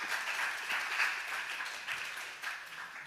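A church congregation at a summer Holy Spirit conference dawn service claps and applauds together, a sustained, even wash of many hands filling the room for the whole stretch.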